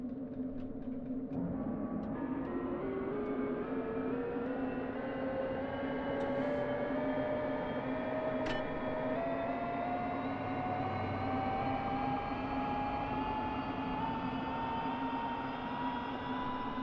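A jet engine spools up in a DCS World aircraft during a cold-start, a steady rising whine climbing over a constant low hum and loud background rumble, continuous with no talk.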